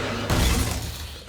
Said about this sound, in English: The glass broke.